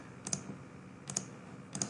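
Three quick double clicks of a computer keyboard, evenly spaced and faint in a quiet room, from keys pressed during Revit Architecture software work.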